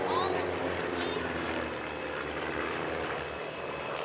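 Van's RV-6 kit planes fly in formation at an air show at Edwards AFB, a steady broad propeller drone droning throughout, with a commentator talking over it.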